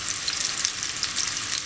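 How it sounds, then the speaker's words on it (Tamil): Fish roasting in a frying pan, one side browning before being turned, gives a steady, dense sizzle that stays close and even throughout, with no voices. "ஒரு பக்கத்தில் ஃப்ரை இது ரோஸ்ட் ஆகிறது, இன்னொரு பக்கத்தில் திருப்பி போட வேண்டியதான்."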